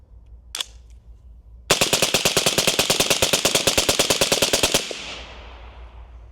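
A suppressed 300 Blackout rifle fires supersonic ammunition: one early shot, then a loud, rapid string of roughly thirty evenly spaced cracks lasting about three seconds, ending in a fading echo.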